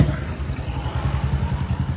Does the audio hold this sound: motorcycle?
yes